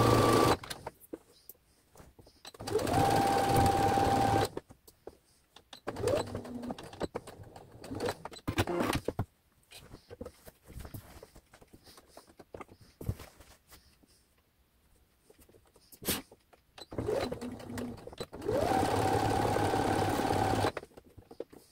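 Sewing machine stitching shirt fronts to the back, running in bursts of steady motor whir separated by quiet pauses, close and with no talk.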